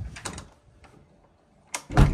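An indoor wooden door in a house is pushed shut, with soft handling noises first and then a firm thud as it closes, close by.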